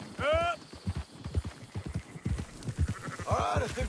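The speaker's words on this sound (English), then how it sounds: "Marston, why don't you leave the sheep to me?" Sheep bleat in wavering cries at the start and end while horse hooves clop in a steady rhythm as a flock is rounded up in a video game, with someone talking over the animals.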